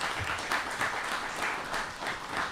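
At a Republic Day mushaira, an audience greets the poets with a somewhat distant, moderately quiet round of clapping that swells gently in waves, with no one speaking over it.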